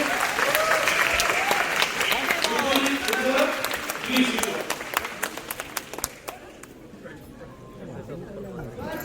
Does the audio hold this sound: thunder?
no